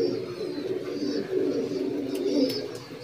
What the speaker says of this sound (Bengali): এই বাচ্চাগুলো আরশাদ লাইনের।